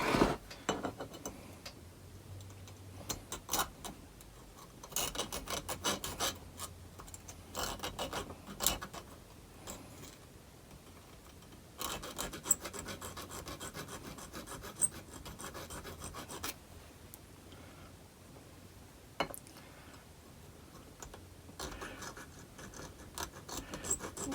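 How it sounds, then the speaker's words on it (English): A small knife file rasps across a hand-forged, cold-forged eyeless fishhook in the 18th-century style, giving quiet, irregular scraping strokes in short bursts with pauses between, close up with no talking. "Let me get this little knife file right here."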